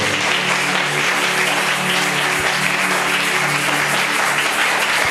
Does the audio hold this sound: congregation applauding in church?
yes